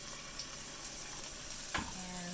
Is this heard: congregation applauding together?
no